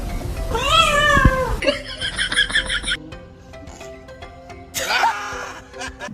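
Pet cat meowing in a long drawn-out, rising and falling call, then a second shorter meow near the end, loud and close over background clatter and music-like noise.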